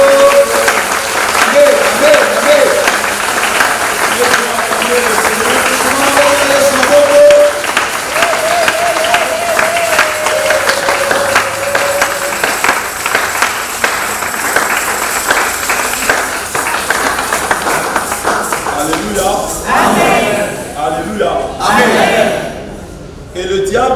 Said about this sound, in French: Quelqu'un peut m'aider à acclamer.